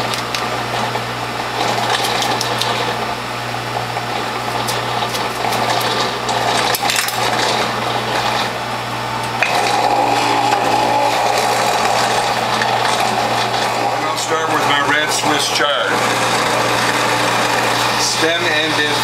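A juicer with a five-blade near zero blowback cutter works through quartered, trimmed garden beet, giving a loud, steady high motor whine with gritty grinding and rattling as pieces feed in, while a voice speaks over it.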